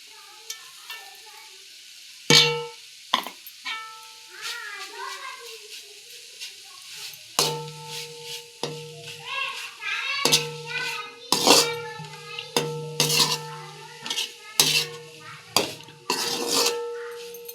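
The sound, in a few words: stirring grated coconut into frying broad beans in a pan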